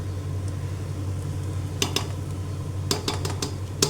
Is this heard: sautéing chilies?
yes